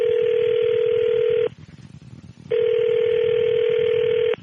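Telephone dialing tones sound during a call on a radio show: two long, loud steady tones separated by about a second of near silence.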